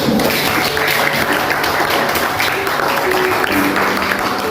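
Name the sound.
classroom applause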